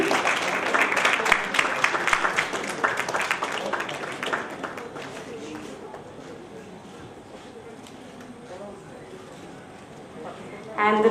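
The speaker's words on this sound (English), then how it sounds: "Let's hear a round of applause, ladies and gentlemen." Crowd applause at a literature festival session rings out loudly at first, then thins and fades under murmuring voices, with a brief burst of clapping returning at the very end.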